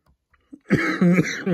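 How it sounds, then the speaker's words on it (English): A man who is still getting over a lingering cough gives a short, rough cough with throaty voicing, close and fairly loud, preceded by a few faint breaths and small sounds. "No, I'm still not over this cough completely."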